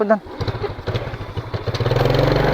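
A motorcycle engine running low on fuel chugs in an uneven, pulsing rhythm close by, then steadies into a louder, fuller rumble toward the end.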